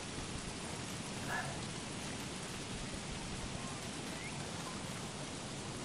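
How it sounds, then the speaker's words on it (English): Rain falls in the video game Don't Starve Shipwrecked as a soft, even hiss that holds steady throughout, with no voices over it. "I need to get out of the rain."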